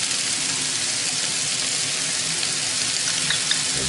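Mushrooms frying in a pan for beef stir-fried noodles, giving a loud, dense, steady sizzle with crackling hiss close up, uninterrupted and without speech.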